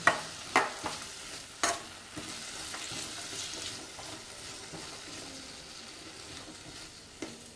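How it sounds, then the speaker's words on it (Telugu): A potato fry gets stirred in a pan over a low flame, with a few sharp spatula knocks near the start and a soft, faint sizzle that holds steady underneath. "మొత్తం ఒకసారి ఇలా కలుపుకోండి ఇదంతా కూడా సిమ్లో పెట్టుకొని చేసుకోండి"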